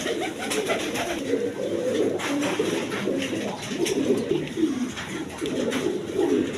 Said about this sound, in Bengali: গোপালগঞ্জের বড় পায়রা নর কবুতর